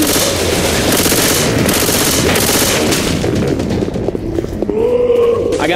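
Sustained rapid gunfire in Left 4 Dead 2, dense and loud throughout, with bursts overlapping into a near-continuous rattle before easing slightly near the end.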